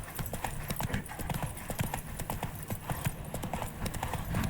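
A horse gallops in The Witcher 3 video game, its hooves making a fast, steady clip-clop rhythm throughout at moderate volume, with faint background sound and no talking.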